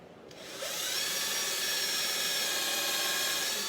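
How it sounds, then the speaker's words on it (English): A power drill pre-drills holes into wood while a squat rack is being built, giving a steady, loud whirring drone that rises quickly after a brief quiet start and holds without a break. "I'm going to be drilling"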